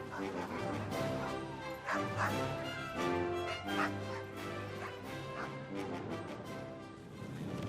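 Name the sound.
Canadian sled dogs barking aboard ship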